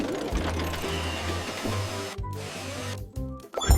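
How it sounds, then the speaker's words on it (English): Cartoon construction drill in an animated children's scene, a steady mechanical buzzing whir that runs nearly the whole time with brief dropouts, loud and close, with no voices. "Drill."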